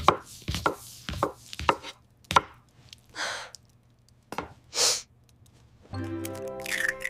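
Crisp knife chops through onions on a cutting board come in irregular bursts, close up, followed by a brief clatter near the end.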